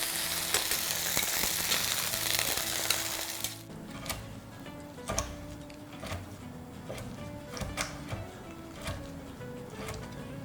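Chicken pieces fry in a pan with a loud, bright sizzle that drops to a softer crackle. Scattered clicks and scrapes follow as the meat is turned over to cook through.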